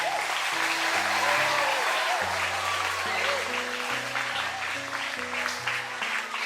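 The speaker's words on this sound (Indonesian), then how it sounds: "Tepuk tangan semuanya." A school assembly claps steadily through a National Teachers' Day flag ceremony, with sustained applause over music tones and some voices.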